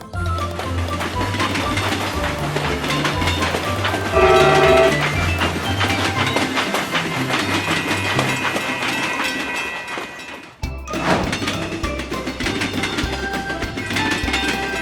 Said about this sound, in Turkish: Tren tam zamanında kalkıyor.